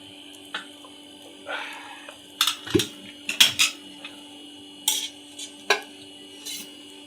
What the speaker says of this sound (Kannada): ಕಡಾಯಿ ಇಟ್ಕೊಳ್ಳೋಣ